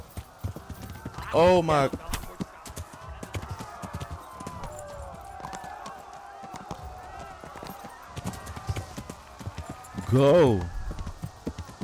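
Hooves clip-clop along at a steady gallop throughout in Kingdom Come: Deliverance, with a horse whinnying twice over game sounds and someone speaking briefly.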